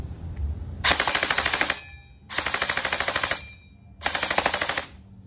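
Sijun MP5A4 airsoft gun firing three loud, rapid full-auto bursts of about one second each, the mechanical chatter separated by short pauses.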